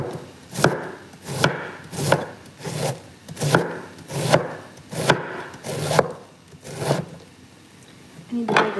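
Cabbage being chopped with a knife on a chopping board, a steady series of about a dozen firm, close thuds at a regular rhythm.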